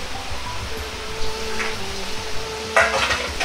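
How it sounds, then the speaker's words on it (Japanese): Soft sizzling of chicken pieces frying skin-side down without oil in a hot wok over medium gas heat, with occasional scraping and stirring clatter, including a sharper clink near the end. "油を入れないで鶏肉を焼いていきます"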